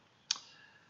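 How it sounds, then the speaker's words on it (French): A single crisp click of the Alt key pressed on a computer keyboard while working in SketchUp, short and close against a quiet background. "j'appuie sur la touche Alt de mon clavier"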